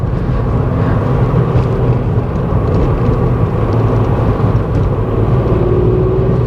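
A VW Up GTI hatchback driven hard on winding country roads, its small engine droning steadily with road and wind roar filling the cabin, continuous and loud with no talk.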